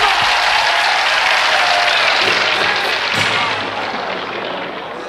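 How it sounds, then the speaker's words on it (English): A crowd applauds Buddy Holly and the Crickets, steady and loud clapping throughout that tapers slightly toward the end. "Let's have a nice round of applause for Mr."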